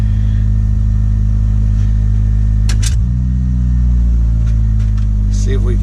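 Car engine running loud and close with a deep steady rumble, a brief blip of revs midway, then settling back to a rough idle.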